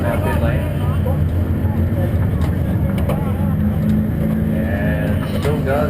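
Stock race car number 69, driven by Al English, rolls into pit lane at Barrie Speedway, its engine a steady, loud rumble that runs through the clip beneath a commentator's talk.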